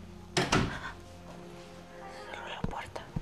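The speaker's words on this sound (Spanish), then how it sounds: "Cerró la puerta." A door thuds shut inside a castle, a muffled knock followed by quiet whispering and another soft thump near the end.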